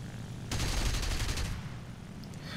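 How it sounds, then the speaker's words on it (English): Aircraft cannons and machine guns of an Fw 190 F-8 firing in the combat game War Thunder, heard as a loud rapid burst of about a second, followed by engine drone. "I open fire"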